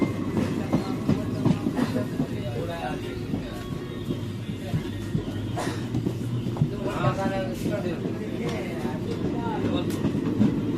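Rumbling Indian Railways train nearing Shikara station, rhythmic clickety-clack of wheels on rails, heard from inside the carriage, with voices mixed into the steady noise.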